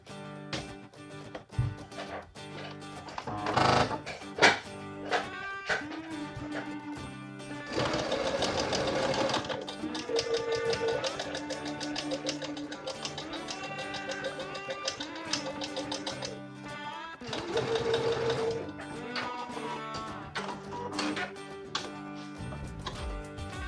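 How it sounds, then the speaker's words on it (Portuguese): A sewing machine stitches a French seam on fabric, running in steady rapid bursts of mechanical ticking and whirring with short pauses between runs, close and clear with no voices. "Vamos lá à máquina. Vamos costurar então a meio centímetro da nossa margem"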